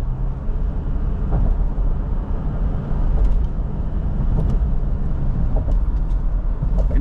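Steady, loud road and engine rumble from a 2019 Toyota Fortuner 2.4 TRD diesel automatic SUV cruising around 100 km/h on a toll road, with faint clicks and bumps over continuous low tire noise.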